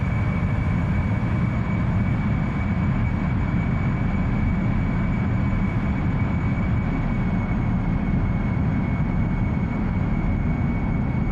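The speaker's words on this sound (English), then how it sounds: "Give us some throttle and get on up out there" A spaceship engine in the video game Dual Universe roars steadily as it is throttled up, a loud, broad, low rumble with a faint high tone, constant for about eleven seconds with no talk.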